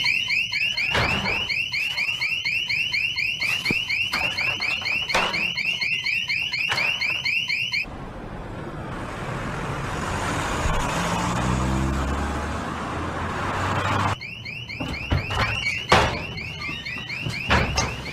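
A car alarm wails with a rapid, repeating electronic warble, loud and close. It breaks off for several seconds of low street rumble, then starts again.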